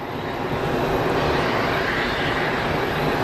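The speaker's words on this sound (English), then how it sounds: "Bit of reverser action." A landing airliner's thrust reversers roar at Geneva Airport, a broad, sustained rushing rumble heard from a distance with no talk over it.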